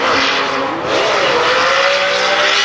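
Race car at speed on the Lydden Hill circuit during a qualifying round, a loud continuous engine drone with rising pitch as it accelerates, close and steady throughout.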